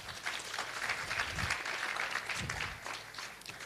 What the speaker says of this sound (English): The clap was so loud.